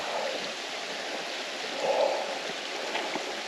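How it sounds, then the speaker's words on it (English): A waterfall and running stream at a campsite make a constant broadband rush of water, steady and fairly close, with a slight swell partway through and no voices. "Now we'll go over to the waterfall."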